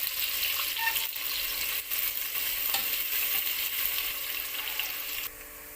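Onions frying in a pan until golden brown, a soft steady hiss and sizzle with a few faint scrapes, fairly quiet and alone, cutting off abruptly near the end.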